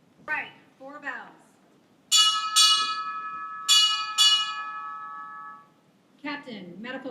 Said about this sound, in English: Right, 4 bells.